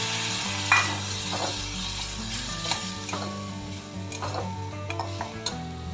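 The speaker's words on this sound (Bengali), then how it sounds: "দিয়ে এটাও ভালো করে ভেজে নেব এখনই ওই ধোয়া জলটাও দিয়ে দেবো" A ground poppy seed paste fries with ridge gourd in a pan, giving a steady sizzle with occasional utensil scrapes and taps over a low background hum.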